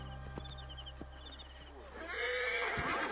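A horse neighs loudly in the Assassin's Creed Origins video game, a long whinny over a steady low game drone, with hoof clops and faint chimes before it.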